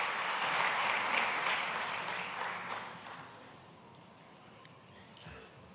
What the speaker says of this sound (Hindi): आइए जोरदार तालियों से अभिनंदन करें।